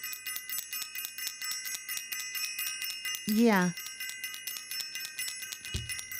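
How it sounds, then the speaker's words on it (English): A small bell rings once, a brief bright chime with a quick wavering decay, over a steady tonal background of music, and a short spoken word follows afterward. "So did you all hear me ring the bell?"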